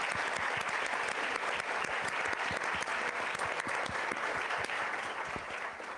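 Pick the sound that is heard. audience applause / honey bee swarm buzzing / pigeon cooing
audience applause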